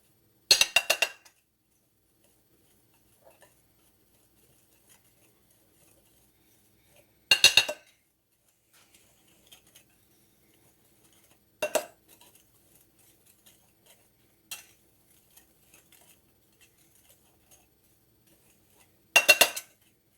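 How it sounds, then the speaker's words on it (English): A utensil scrapes and clinks against a Pampered Chef mixing bowl as brown sugar is mixed into devil's food chocolate cake batter, in four short separate bursts of clatter with near silence between them. "Now we're going to add in our brown sugar and do the same thing, give that a good mix."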